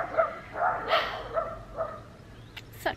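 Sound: dogs barking

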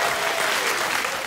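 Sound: studio audience applause

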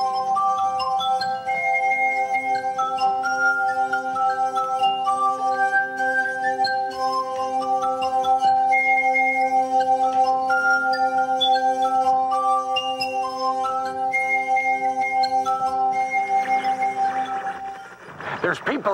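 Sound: finger rubbed around a glass rim making it sing

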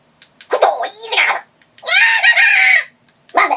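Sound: Jawa sound effects from TRamp Trooper Amp comm system

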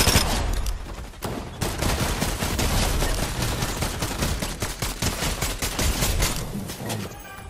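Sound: gunfire in the video game Fortnite

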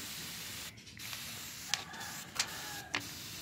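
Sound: water spray bottle spraying a magpie robin

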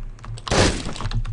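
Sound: glass breaking in video game Hotline Miami 2

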